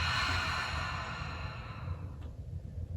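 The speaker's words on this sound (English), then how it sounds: "Audible exhale, let it go." A long, breathy audible exhale during a vinyasa yoga breathing exercise, steady and close, fading out over a few seconds.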